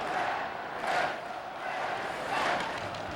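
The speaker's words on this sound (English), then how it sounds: "The faithful trying to cheer on the Big Red." Cornell Big Red fans cheering at an ECAC championship college hockey game, a distant arena crowd roaring in two swelling waves, fairly faint and steady between the surges.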